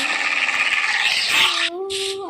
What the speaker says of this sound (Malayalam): പട്ടിയാണ് ഇവിടെ കണ്ണുമുട്ടി പട്ടികൾ തന്നെയാണല്ലോ.